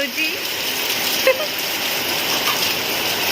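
Heavy monsoon rain falls in a loud, continuous, dense hiss with spattering on surfaces, and a few faint voices and brief knocks are heard underneath.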